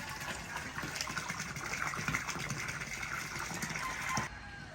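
Steady rushing water pours and gushes into a hole for several seconds in Moonwalk, Parañaque, Philippines, a continuous splashing flow that cuts off abruptly near the end.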